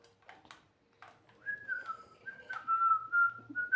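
A person whistles a wavering tune, with a few soft rustles and knocks before it; the whistling grows steadier and louder toward the end.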